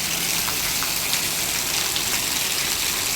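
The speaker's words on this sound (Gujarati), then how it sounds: "બામરોલી ગામે ધોધમાર વરસાદ ચાલી રહ્યો છે।" Heavy torrential rain pours steadily over a village, a dense, unbroken hiss of water close by with no voices.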